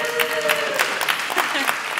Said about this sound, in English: So first, a round of applause to yourselves for the stamina.